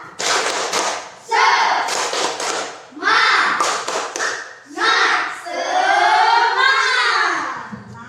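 An Indonesian classroom of children stands and does a rhythmic clapping chant, bursts of quick claps alternating with loud chanted shouts from the whole class, close and energetic.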